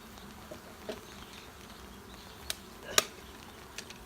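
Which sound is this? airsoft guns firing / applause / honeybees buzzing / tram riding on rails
honeybees buzzing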